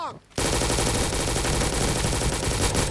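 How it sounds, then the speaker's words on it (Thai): Sustained rapid machine-gun fire from a helicopter in the Roblox game RECOIL, dense, loud and continuous after a brief quieter start, with a voice speaking briefly at the opening. "ฮอช่วยยิงฮอช่วยยิง"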